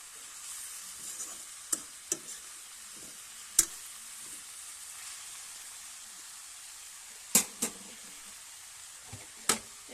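Taro leaves stirred and sizzling in a pan, a soft steady frying hiss broken by several sharp clicks and scrapes of the utensil, quiet and close with no voices.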